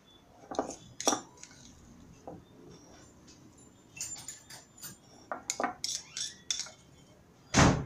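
Kitchen utensils scrape and tap against a surface as a chicken nugget mixture is spread over flour, giving soft clinks and scuffs in scattered bursts, close and fairly quiet, with no talking.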